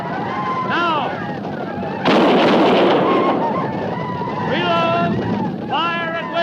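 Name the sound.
gunfire volley in a Wild West film scene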